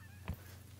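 A single goose honk rings out in the hunting game theHunter: Call of the Wild, short and fairly close, over a low steady ambient hum.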